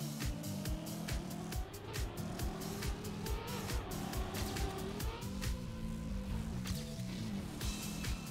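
A Trackmania car engine drones steadily up close, its pitch rising and falling with speed, with light tire squeal and scattered sharp clicks over the constant roar.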